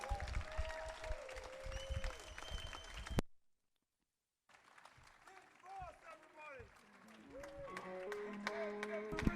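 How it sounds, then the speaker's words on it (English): Comedy club audience in front of a parking garage applauds comedian Rich Vos at the close of his set, clapping and crowd noise mixed with talk, breaking off into a short silence before scattered applause and voices resume. "Clap it up for Rich Vos!"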